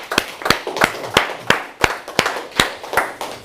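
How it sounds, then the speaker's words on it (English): A round of applause from an audience at a motivational event, heard as a sparse, rhythmic sequence of about ten distinct claps at a steady beat, moderately loud and close, with no talking. "Now give yourself another round of applause."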